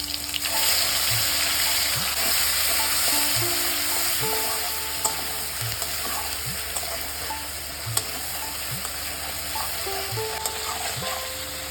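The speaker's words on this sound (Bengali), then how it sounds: "দেখুন মশলাটা খুব ভালোভাবে ভাজা হয়ে গেছে।" A spice paste of garlic, ginger and onion with tomato fries in a pan, giving a constant close sizzle broken by regular, evenly spaced strokes of a spatula stirring it.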